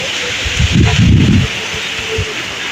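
Strong wind gusts through leaves as rain clouds gather in the evening, a broad rushing swell that builds and peaks in the middle and then eases back to a steady outdoor background.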